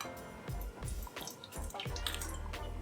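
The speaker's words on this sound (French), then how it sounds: "Dans un saladier, vous allez verser 35 g d'eau" About 35 g of water poured into a mixing bowl for a focaccia biga pre-ferment, a close, splashy trickle with bubbling gurgles that runs the whole time.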